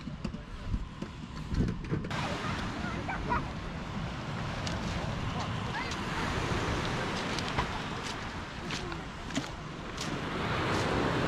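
Winter sea surf washing onto a dark-sand beach at Sochi's Riviera in January, a steady broad wash of waves with wind buffeting the microphone, fairly loud and continuous, with a quieter start before the surge.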